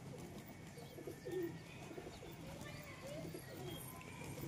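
A male pigeon coos in low, throaty bursts close by, repeating through the clip beneath a person talking and steady background noise.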